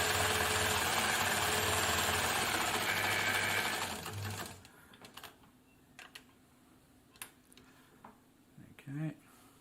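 An Elna Supermatic sewing machine stitches at full zigzag width with a slightly longer stitch length, a loud steady whirring run for about four seconds that stops abruptly, followed by quiet handling clicks.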